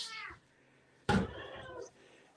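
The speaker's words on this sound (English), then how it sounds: "These are the triplets, the 3 gray cats" Gray kittens meowing at a no-kill animal shelter, two clear close meows, a short one first and then a longer, louder one after a pause, with faint background sounds.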